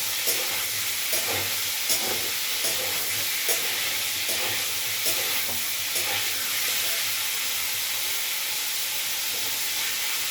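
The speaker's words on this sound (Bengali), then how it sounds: "ওই তেলেতে ফুলকপিটাও ছেড়েছি। ওটা যখন ভাজা হয়ে যাবে তখন এটাকে আমি তুলে নেব।" Cauliflower frying in hot oil, a sustained hissing sizzle with regular spatula stirs and scrapes through the whole stretch, heard alone without talk.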